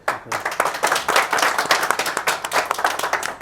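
An audience claps for Ustad Safdar Bajwa, a noted player from Pakistan, at an event: brisk, close handclaps in a quick rhythmic burst lasting a few seconds.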